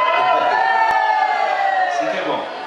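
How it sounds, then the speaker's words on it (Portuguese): Crowd of supporters at a beach seine-net haul in Armação, cheering and whooping loudly and continuously, with high shouting voices close by and fading slightly toward the end. "Tem até torcida."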